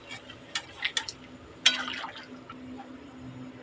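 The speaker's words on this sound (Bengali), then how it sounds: "এবার গরম জল দিয়ে একটু নাড়াচাড়া করে ঢাকা দিয়ে রাখতে হবে।" Hot water poured into a pan of potato curry, then stirred, with a few light clinks of a utensil and a brief splash followed by a soft, steady pouring hiss, close by.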